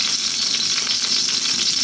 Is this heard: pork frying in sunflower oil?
yes